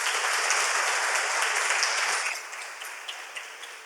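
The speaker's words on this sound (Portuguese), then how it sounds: "Você pode dar um aplauso ao nome do Senhor Jesus?" A church congregation claps together, a full burst of applause that thins out toward the end into a few scattered claps.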